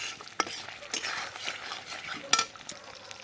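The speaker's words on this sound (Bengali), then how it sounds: "সেই জন্যই পুরো মশলাটা একবারে দিয়ে ভাজা করে নিচ্ছি।" Spice paste fries in a pan on a clay stove, a soft, low sizzle broken by scraping stirs and a few sharp clinks of a utensil against the pan.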